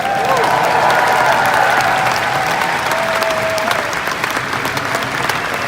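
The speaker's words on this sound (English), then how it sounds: "I want applause for both of them." Sustained, loud audience applause fills a Star Trek convention hall at a Deep Space Nine talk, dense and steady throughout with a faint tone drifting over the crowd before it eases slightly toward the end.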